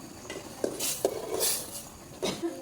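A fish head cooking in a pot for a moong dal dish is stirred and turned, giving several distinct spoon knocks and scrapes against the metal over a faint sizzle.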